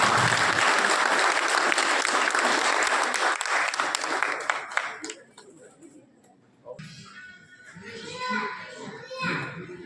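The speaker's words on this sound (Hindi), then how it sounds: "एक बार जोरदार तालियों से फिर से" A large audience at a Lions Club charter evening in Sujangarh bursts into loud, dense applause for about five seconds, then it drops away and children's voices and chatter carry on in the hall.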